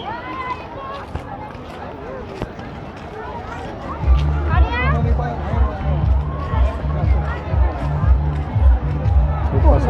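A busy crowd murmurs and calls out at a water park near a fountain and swimming pool, with a steady babble of voices and a low rhythmic thumping of music joining partway through.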